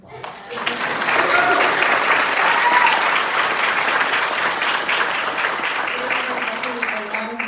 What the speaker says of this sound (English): And I just want to give her a round of applause.